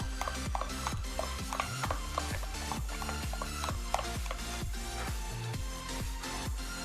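A cauliflower chop mixture being kneaded by hand with a spoonful of hot mustard oil: a steady, quick rhythm of soft squelching, rubbing strokes, close and fairly loud, with no talking.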